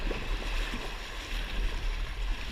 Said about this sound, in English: Nice waves.